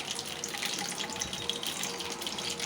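Tap water runs in a steady splashing stream into a sink, a continuous close hiss with no voices.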